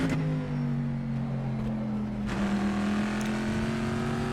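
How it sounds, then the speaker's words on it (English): Corvette race car from the rFactor 2 EnduRacers mod, its engine droning with a steady low harmonic tone that dips and then climbs as revs rise again, loud and continuous with no talk. "Sounds like the real Corvette from real life."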